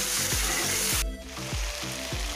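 Chicken pieces fry loudly in a pan while being stirred, a dense crackling sizzle broken by repeated scraping strokes at a steady rhythm, close and constant.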